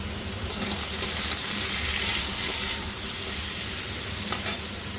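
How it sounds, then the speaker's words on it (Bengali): Papaya and potato pieces frying lightly in a pan with turmeric, a continuous even sizzle with occasional sharp clicks of a spatula against the pan, close and steady, no speech. "পেঁপে আর আলুটা একটু হালকা করে ভেজে নিয়ে"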